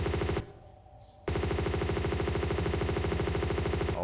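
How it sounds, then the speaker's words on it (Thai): Sustained rapid automatic fire from an M16 rifle in the video game Tomb Raider 2 Remastered, loud and continuous with a brief pause before a long unbroken burst of fast, even shots. "เดี๋ยวเราจะเตรียมปืน M16 ก่อนนะครับผม เพราะว่าเดี๋ยวเราต้องกำจัดตัวที่อยู่ข้างหน้านี้ก่อนนะครับ"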